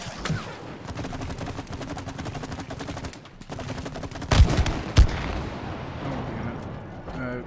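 Rapid game gunfire from a co-op shooting section of It Takes Two, sustained repeated shots with a couple of louder impacts near the end, set in a busy mix with players talking.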